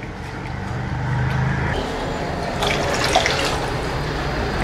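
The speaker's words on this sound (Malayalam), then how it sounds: "ഇനി നമുക്കിതിലേക്ക് കുറച്ച് വെള്ളം ആഡ് ചെയ്ത് കൊടുക്കാം" Water pours into a pan of fish curry during cooking, a steady rushing splash lasting several seconds at close range and fairly loud.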